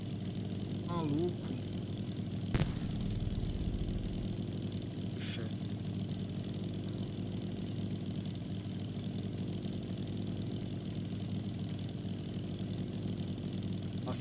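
A motorcycle engine in the video game Night of the Dead drones steadily at a middling pitch throughout, under people talking and a few sharp game sounds.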